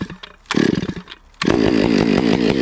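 A ported Stihl 500i chainsaw with a full-comp chain starts up with a short burst, drops briefly, then catches and runs steadily at a loud, close idle-to-high buzz.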